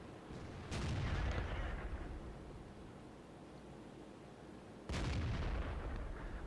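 Tank cannon fire in World of Tanks, two heavy booming shots about four seconds apart, each a sharp blast trailing into a rumbling decay over a quiet background hiss.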